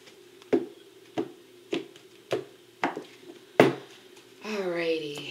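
Several sharp, evenly spaced taps of tarot cards being shuffled, six quick hits in a row, followed by a brief voice at the end.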